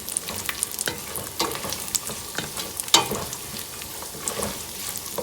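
Caramelized nuts with raisins and cranberries stirred in a frying pan, a light sizzle beneath repeated close scrapes and clatters of the spoon, with one sharper knock partway through.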